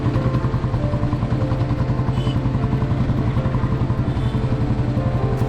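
Motorcycle riding along potholed roads toward Thrissur, its engine a loud, close, steady rhythmic thump with mechanical clatter that continues throughout, and no voices.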